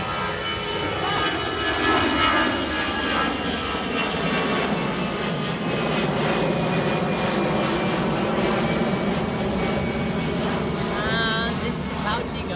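A fixed-wing airliner takes off from Newcastle airport, its jet engines a loud, sustained roar that holds steady throughout, with a spotter's excited voice talking over it.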